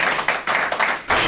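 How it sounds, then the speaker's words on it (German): Studio audience applauding in a business lounge talk show set, a close burst of clapping that comes in several uneven waves with brief dips between them. "das ist Ihr Applaus"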